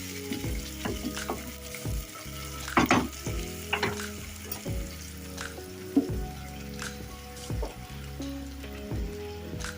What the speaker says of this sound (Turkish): Mantarları hızlı ateşte pişiriyoruz